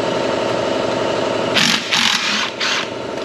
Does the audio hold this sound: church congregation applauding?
no